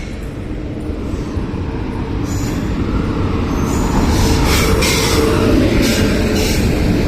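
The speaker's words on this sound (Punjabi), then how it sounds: "ਸੋ ਫਾਈਨਲੀ ਆ ਗਈ ਟ੍ਰੇਨ ਆਪਣੀ" Steady, loud rumble of the Amritsar Superfast Express rolling into Ahmedgarh station, with continuous low-frequency clatter building slightly over several seconds and faint higher screech tones.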